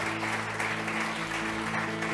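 Steady, dense clapping from a congregation at a church service, sustained throughout with a faint tonal hum or music underneath.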